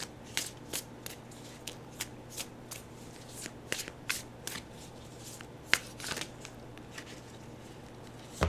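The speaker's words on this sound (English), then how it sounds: "All these cards fell out." A deck of tarot cards being shuffled, with crisp riffling flicks and soft slaps repeating irregularly, close and quiet in a still room.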